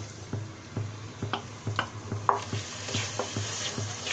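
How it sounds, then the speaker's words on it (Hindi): Tomato puree and masala frying in a pan, with soft, even sizzling under a regular rhythm of spoon scrapes and taps against the pan, close and fairly quiet with no voices. "अब हम इस मसाले को बहुत अच्छी तरह से भून लेंगे"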